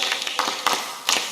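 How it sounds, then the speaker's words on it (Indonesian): An audience claps in a short burst, a dense patter of hands with a few louder swells, fairly close and heard alone. "Tepuk tangan semuanya"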